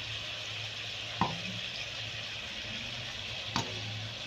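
Spiced masala frying in a pan, a steady soft sizzle throughout with two brief clinks of a spoon stirring, close and alone with no talk.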